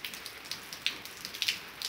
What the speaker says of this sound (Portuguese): Tá chovendo, pessoal.